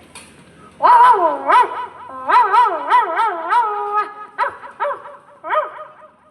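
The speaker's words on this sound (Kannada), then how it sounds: "ಆಗ ಅಜ್ಜಿ ಮನೆಯ ನಾಯಿ ನನ್ನನ್ನು ಈ ರೀತಿಯಾಗಿ ಸ್ವಾಗತಿಸಿತು" At a grandmother's house, the family dog greets an arriving visitor with a lively run of yips, short barks and whining cries. The calls are close and loud, clustered in two or three bursts.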